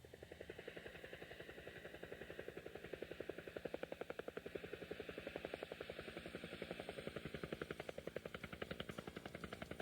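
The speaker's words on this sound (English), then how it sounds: "This game puts you right in the cockpit of a very fast and very powerful helicopter." A fast, powerful helicopter in the LaserActive game High Roller Battle: a steady rapid rotor chop pulses evenly throughout, fairly quiet, with no voices.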